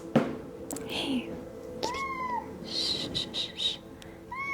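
A pet cat named Mittens meows several times in a quiet room, short rising and falling calls spaced apart, with soft whispered speech between them.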